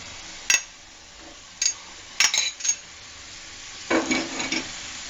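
Fried eggs stirred into a frying tomato masala, heard as a few sharp spoon-against-pan clinks and scrapes spaced over a quiet background, with a soft sizzle between strokes.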